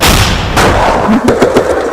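Several sharp gunshots ring out in quick succession, loud and close, over a dense rumbling background.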